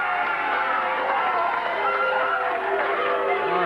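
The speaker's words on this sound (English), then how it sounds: "A little more applause than I really expected for Brian Christopher" A USWA wrestling audience applauds and cheers for wrestler Brian Christopher, the Texas champion, as he comes out, making a steady, dense roar of clapping and crowd noise throughout.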